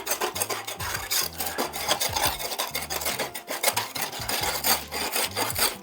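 A blade scrapes off softened material, making a continuous rough rasping that repeats in strokes close to the listener, with music playing underneath.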